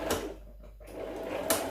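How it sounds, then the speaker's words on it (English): A sewing machine top-stitching along the zipper fly of a pair of trousers runs in a short, quiet burst, pauses briefly, then whirs again, with no talking over it. "you place your sewing machine there, and then you top stitch it just a little bit"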